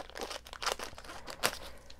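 Plastic packaging holding clear plastic clips is cut open, giving close, quiet crinkles, crunches and short tearing snaps in irregular bursts.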